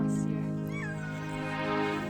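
Thin, high-pitched mewing cries from tiny kittens, wavering and continuous, heard close up over a low steady hum.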